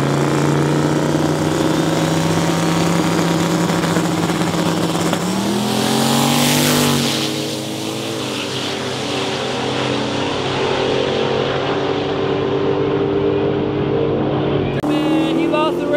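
Street drag race with cars and a truck competing, engines roaring loud and steady, a surge and pitch shift midway as vehicles rev and pass, ending with a sharp new burst of engine noise.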